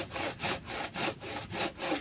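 A hand saw rasps through thick PVC in steady back-and-forth strokes, about seven rhythmic pulls, close and fairly loud with no voices.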